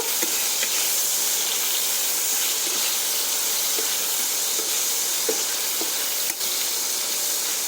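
Chopped tomatoes with a pinch of salt frying for an eggplant dish, a loud, steady sizzle and hiss filling the pan up close, with a few faint stirring knocks and no voices.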